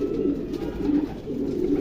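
Steady, soft racing pigeon cooing close by, a Netherlands-bred bird, repeated low throaty coos over a continuous murmur of birds.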